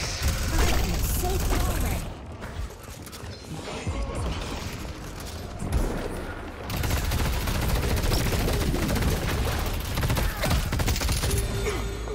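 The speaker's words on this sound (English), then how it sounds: "Is a sniper battle going on?" Gunfire during a match of the hero shooter Deadlock, with bursts of shots, impacts and mechanical clatter, loud and busy, easing briefly in the middle before resuming under players' chatter.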